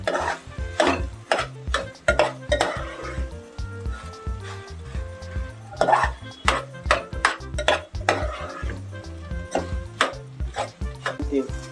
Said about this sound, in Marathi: त्याच्यामध्ये आपण मनुका टाकू, एक काजू टाकूया आणि परत सगळं एकदा ढवळून घेऊया.